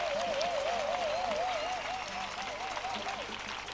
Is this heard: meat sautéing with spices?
no